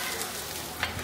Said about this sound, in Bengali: পেঁয়াজ কুচিটা একটু ভেজে নিই